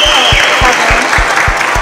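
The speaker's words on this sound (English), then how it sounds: "let's give an applause" A small group clapping loudly and close up, with distinct rhythmic claps over a bright wash of applause.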